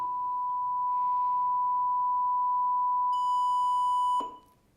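A single steady pure test tone holds loud and unbroken, joined later by a higher layered tone, before it cuts off and leaves quiet background hiss.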